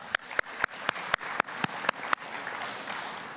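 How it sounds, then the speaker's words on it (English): Applause from the audience at the Hollywoodbets Super League football awards ceremony: a run of sharp, evenly spaced claps gives way to a steady wash of clapping from the crowd. "A round of applause to you."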